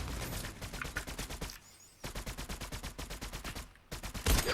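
Rapid bursts of automatic gunfire in a video game, loud and close, arriving in two long strings separated by a short quiet gap, with a heavier boom at the end.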